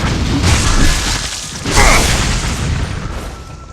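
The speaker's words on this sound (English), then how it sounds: "I thought the rockets were coming from nearby, but they're coming all the way from over there." Rocket explosions in the action game Ninja Gaiden 3: Razor's Edge, two loud booming blasts with whooshing rushes about a second apart over a dense, noisy game-combat background.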